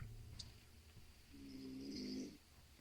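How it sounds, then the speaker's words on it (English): A sleeping woman snoring, a single faint drawn-out snore that swells and rasps for about a second before fading, heard alone in a quiet room with low background hum. "sleeping snore."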